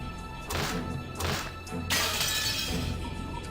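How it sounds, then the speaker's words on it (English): Window glass smashed with an antique chair in the Umineko game: several loud crashing shatters in quick succession, the last breaking into a sustained spray of falling shards and crunching glass. "The glass smashed with a violent sound, and the frame groaned and creaked"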